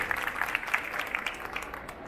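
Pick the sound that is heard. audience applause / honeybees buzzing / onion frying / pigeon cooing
audience applause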